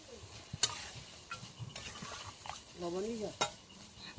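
Sukto vegetables stirred in a pan after water is added, quiet scraping and clinks of a spoon against the pan over a faint simmer, with a brief soft voice in the background.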